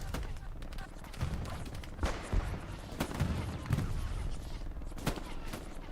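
Machine gun fire from a tower position in Hell Let Loose, WWII shooter on the Remagen Ludendorff Bridge map, loud battlefield bursts with sharp cracks scattered across the stretch and steady rumbling gunfire underneath.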